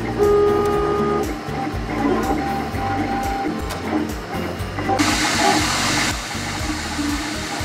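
A 3D printer lays down parts in white PLA plastic, its stepper motors whirring and buzzing in steady shifting tones, with a brief burst of louder hissing fan noise partway through; no talk.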